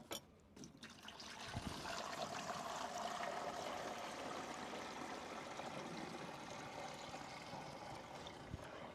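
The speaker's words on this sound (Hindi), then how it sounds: "फिर थोड़ा सा आपको पानी डालना है।" Water pours into a clean sprayer tank, a steady trickling stream that starts after a faint knock and runs on evenly, low and close, without talk.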